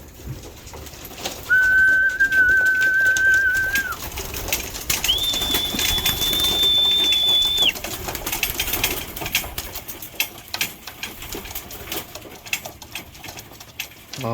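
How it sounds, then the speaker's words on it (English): Pigeons returning to a loft flap and flutter nearby, the wing beats rustling loudly, while two sustained whistles sound clearly over the commotion. "Up here they come."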